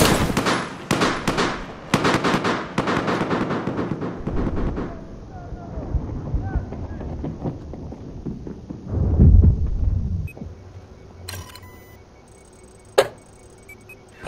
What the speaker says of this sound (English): No, I'm shooting him from up on the roof.